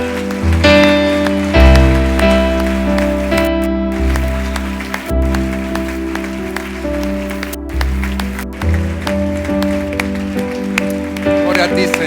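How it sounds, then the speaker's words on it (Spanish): A church congregation applauds, a dense patter of clapping heard over loud worship music with sustained keyboard chords, and a voice speaks in between. "Un aplauso al Señor, hermano."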